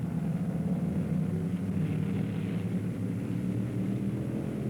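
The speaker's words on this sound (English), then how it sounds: "Two by two, they embark on the pace lap." Race cars from the 1964 Road America 500 roll off two by two on the pace lap, a continuous loud low engine drone with steady rumble and no voices.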